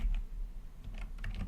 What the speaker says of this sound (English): I can just start typing right there